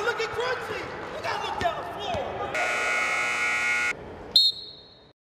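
Sounds of a basketball game in a gym: crowd murmur and squeaks give way to a long, loud electronic buzzer blast, followed by a short high whistle-like tone, with a voice talking over it.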